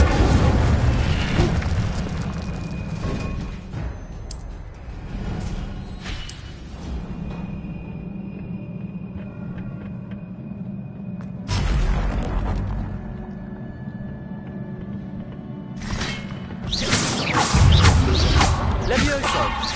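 Incendio fire spell effects in Hogwarts Legacy on PS5: loud whooshing, booming bursts of flame at the start, around twelve seconds and near the end, with crackling magical impacts and quieter ringing tones between them.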